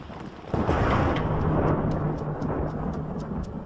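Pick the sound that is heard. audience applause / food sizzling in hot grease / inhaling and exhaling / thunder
thunder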